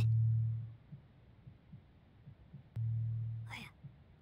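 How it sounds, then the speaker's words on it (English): Thumping heartbeat effect from a horror video game, two long low throbs with soft repeating beats between them, quiet and steady, followed by a brief breathy rise near the end. "I hear a heartbeat."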